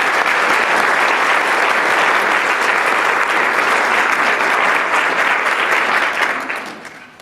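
A luncheon audience gives a full, loud round of applause for a campaign team, dense continuous clapping that holds steady and then fades out at the end.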